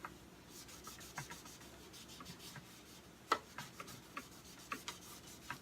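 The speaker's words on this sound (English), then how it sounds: "You just use an old rag. And rub it into the wood." Finish being rubbed into a wooden thrift store chair with an old rag, quiet scrubbing strokes with soft scratchy swishes and a few sharper taps, close and alone.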